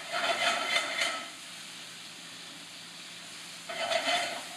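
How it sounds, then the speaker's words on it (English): Mushrooms and onions sautéing in a pan, giving a soft, steady hiss and sizzle that swells at the start, fades to a low hum, then rises again near the end. "mushrooms and the onions over here sauteing"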